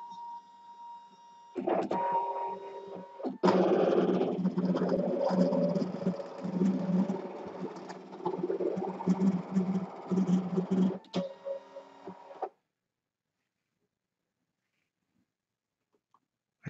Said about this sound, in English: Click OK when the machine has finished cutting and unload my mat